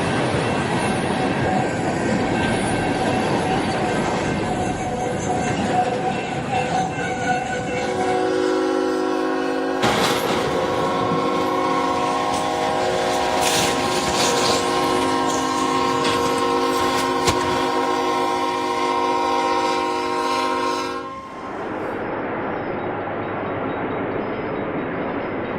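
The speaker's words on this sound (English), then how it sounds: "as a train obliterates a truck trapped on the tracks" Train striking a truck stalled on the tracks at a crossing in Grovetown, Georgia, a loud rumbling rush of the train joined by a long sustained blaring horn that cuts off abruptly, continuous and close.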